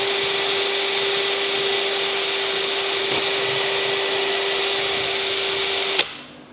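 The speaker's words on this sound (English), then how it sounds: "I've just got these tiny little wire brushes that go on a drill. I'm just going to clean up with them." A drill spinning small wire brushes to clean an aluminium Polaris transmission gearbox, a loud steady high whine running for about six seconds before cutting off and spinning down.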